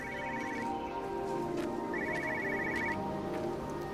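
A phone rings in the video game Everybody's Gone to the Rapture: two bursts of a trilling electronic ring, each lasting about half a second to a second, heard over a steady ambient game soundscape.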